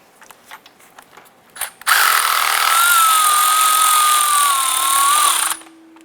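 A power tool whirs steadily for several seconds as the lower starter bolt is driven in on a 2007-2012 Nissan Versa, after some light metallic clicks and handling noises, close and loud with no talk.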